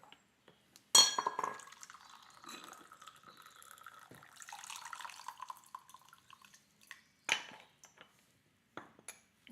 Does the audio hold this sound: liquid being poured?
yes